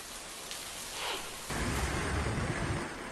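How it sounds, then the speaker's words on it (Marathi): Heavy rain falls across Mumbai as a steady, dense hiss, growing louder and fuller partway through and continuing as a close, broadband downpour with no voices. "जोरदार पावसानं मुंबईकरांचे पुरते हाल केले."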